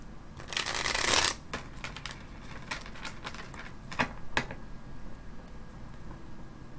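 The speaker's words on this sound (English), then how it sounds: "then we're going to finish shuffling" A brief riffle of cards being shuffled up close, followed by a series of soft taps and clicks as the deck is squared and handled, in a quiet room.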